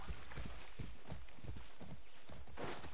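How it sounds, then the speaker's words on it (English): Horse hooves clip-clopping on the ground in the video game Far Cry 6, a steady walking rhythm of soft repeated thuds at moderate distance, alone without talk. "there is a horse here"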